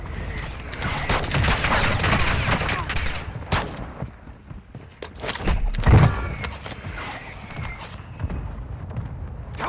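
Rapid bursts of video game gunfire and thudding explosions from an online Plunder match, with mortar strikes in the mix, loud and dense throughout, with a brief spoken voice partly under the shooting.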